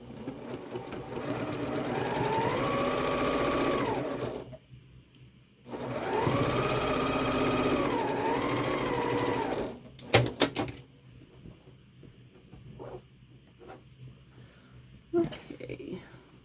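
A sewing machine stitches rows of a quilt block in two steady runs of about four seconds each, whirring with a smooth rising and falling hum, followed by quieter handling clicks and rustles.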